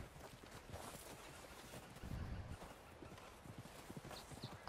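Hooves of a white Arabian horse moving at speed in a frontier hunting game, a steady clip-clop of hoofbeats running continuously beneath the game's ambient wind and noise.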